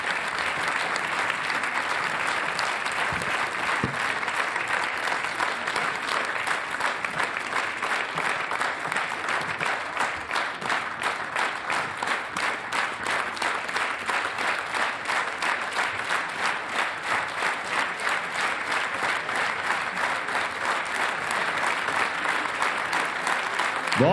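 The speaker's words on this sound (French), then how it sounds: "on peut l'applaudir pour le prix Mosaïque" Sustained applause from a large audience at an award presentation, steady and even throughout, with dense clapping and no pauses.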